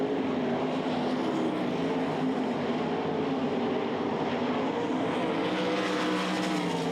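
Sprint race cars roar around the dirt track at the Knoxville Nationals, a continuous dense engine drone from a pack of cars that holds steady throughout, with no voices heard.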